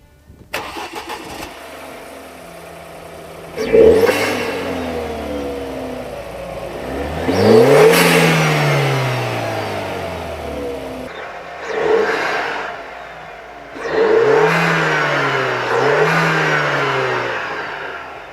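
A Ford Kuga with a 1.5-litre turbo engine and a high-flow aftermarket air filter starts and settles to idle, then revs in several rising bursts with pauses between them, close and loud.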